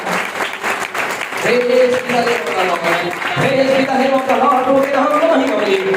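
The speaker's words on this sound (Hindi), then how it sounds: "आइए परमेश्वर के लिए जोरदार ताली बजाएं।" A church congregation claps loudly and continuously during a Hindi worship service, with voices mixed into the applause.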